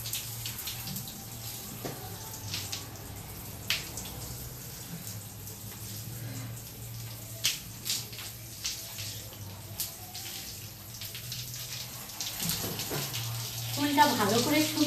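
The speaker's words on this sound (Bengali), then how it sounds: "এবারে চুলটা ভালো করে ধুয়ে নেব" Water runs steadily from a tap while hair is rinsed, a soft continuous splashing with small irregular spatters, growing a little louder near the end.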